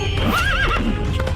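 A cartoon horse gives a loud, close whinny with a rising and falling pitch, followed by the clatter of hooves.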